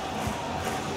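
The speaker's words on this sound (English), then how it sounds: "Crowd really enjoying it." A football stadium crowd in the video game FIFA 17 cheers as a dense, steady roar. The brief burst stays at an even level throughout.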